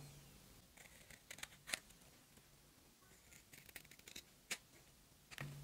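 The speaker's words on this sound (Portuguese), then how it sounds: "Aí é cortar." Scissors cutting fabric pieces for a protective face mask, giving soft irregular snips and rustling against a low background hum, close by and quiet, with no talking.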